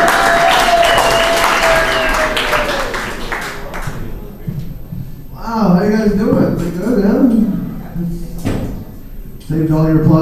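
Audience applause and cheering greet a comedian taking the stage at a stand-up show, loud for the first few seconds, then giving way to the comedian's voice speaking over a quieter room.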